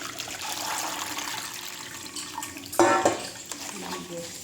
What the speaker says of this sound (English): You wash your hand.